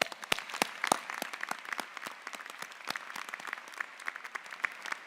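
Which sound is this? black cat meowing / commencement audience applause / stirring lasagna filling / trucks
commencement audience applause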